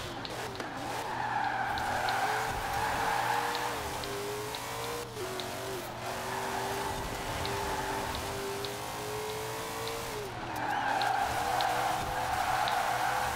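Ford GT40 drifting in Forza Horizon 4, a sustained tire squeal with engine drone that swells and eases through the slide, no talk.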